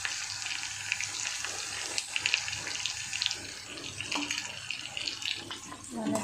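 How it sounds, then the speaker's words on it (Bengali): Bori lentil dumplings fry in hot oil in a home kitchen, giving a steady close sizzle with light crackles, while a person talks over it. "মানে বড়িটা ভাজা হচ্ছে।"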